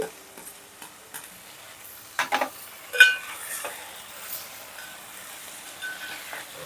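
Tomatoes and drumstick pieces frying in oil in a pan, giving a faint continuous sizzle broken by a few brief stirring scrapes and clinks, heard close.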